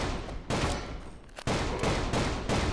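Loud gunshots in the Western shooter Call of Juarez, a few sharp blasts in quick succession, each followed by a noisy decaying tail.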